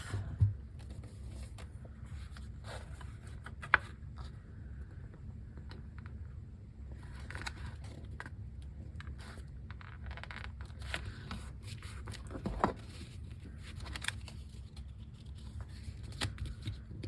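Printed index cards being folded in half by hand for a mini notebook, giving soft papery rustles and scrapes with occasional sharper creasing snaps, close and quiet against a low steady background hum.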